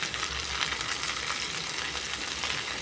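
Okra frying in a pan with salt, a steady close hissing sizzle that continues evenly throughout.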